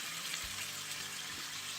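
Sauerkraut-style cabbage filling with tomato paste frying in a pan, a steady dense sizzle and crackle heard close up, with no talk.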